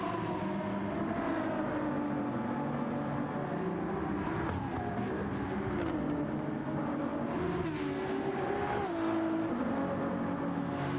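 A Ferrari 296 race car engine in Gran Turismo 7 drones continuously, its whining pitch rising and falling with shifts and throttle changes over a steady mechanical roar.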